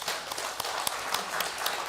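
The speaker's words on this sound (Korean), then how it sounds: "박수로 환영하겠습니다." Church congregation applauding in welcome during a year-end Sunday service, a brief patter of scattered hand claps, fairly soft and uneven.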